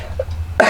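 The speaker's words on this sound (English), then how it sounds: "I have a little bit of a tickling cough today for some reason." A person with a tickling cough lets out a short, close cough after a quieter throat sound, in a small indoor crafting space.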